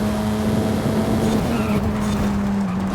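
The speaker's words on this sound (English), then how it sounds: "you can listen to the engine braking on that one" A race car in a sim racing video game drones steadily with a low engine note while engine braking, continuous and fairly loud, with the pitch easing slightly downward.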